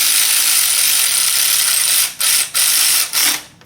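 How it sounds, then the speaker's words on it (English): A torque wrench tightens ignition coil bolts to about 7 pound-feet on a Hyundai Kia 3.3L V6: a steady, loud ratcheting run, then several quick clicking bursts before it stops, with no voices. "Now these coil bolts only get torqued down to like 7 pound-feet."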